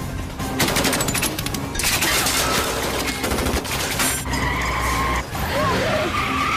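Gunfire in an action movie, dense rapid bursts mixed with screeching and engine roar through a loud chaotic battle scene, with brief shouted voices.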